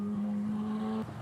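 A candy apple red Ferrari pulls off an auto train with a steady, fairly close engine hum that holds briefly and then drops away as it drives off.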